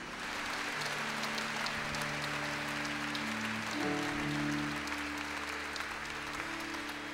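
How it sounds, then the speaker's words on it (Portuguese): A church congregation applauds steadily through a Mass, a broad, even patter of many hands over sustained organ or keyboard tones that hold and shift in the background. "Vamos aplaudir a palavra de Deus."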